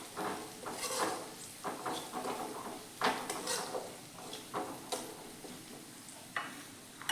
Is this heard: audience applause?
no